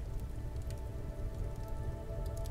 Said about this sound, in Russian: шелест волн